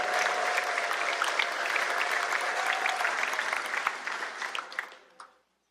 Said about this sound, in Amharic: ለእግዚአብሔር እልልታ ስጡት።